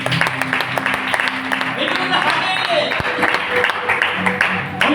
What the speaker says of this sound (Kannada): ಚಪ್ಪಾಳೆ ಹೊಡಿತೀವಿ.